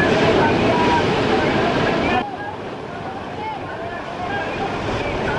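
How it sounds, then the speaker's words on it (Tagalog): Heavy sea waves around a ferry off Dumaguete City, Negros Oriental, a loud rushing roar of water and wind that drops abruptly to a lower, steadier wash partway through, with no clear talking. "Sa kabila ng dambuhalang mga alon,"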